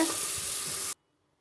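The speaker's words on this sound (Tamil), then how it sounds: "கருவேப்பிலை இப்படி நிறையா போட்டு ஆயிலில் ஃப்ரை பண்ணிக்கிறது" Loud, dense sizzling of curry leaves frying in hot oil, crackling steadily for almost a second before cutting off abruptly into silence.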